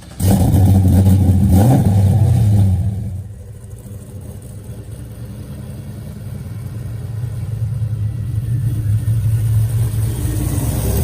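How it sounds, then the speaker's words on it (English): Chevy square body work truck fitted with a supercharged 750 hp LSA engine: a loud, close rev burst for about three seconds, then a steady deep rumble that slowly swells as it cruises, with no talking. "having a 750 horsepower LSA supercharged engine inside of their everyday work truck"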